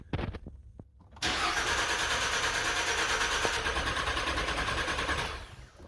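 A Ford F150 pickup with about 160,000 miles is started by push button, giving a few clicks followed by a loud, steady engine cranking that holds for several seconds before cutting off.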